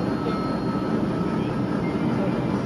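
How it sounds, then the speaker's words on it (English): A model Great Western Railway IET train on an exhibition layout rumbles past steadily with a broad, continuous rolling noise, fairly close and even in loudness throughout. "We've got the Great Western Railway IET coming down."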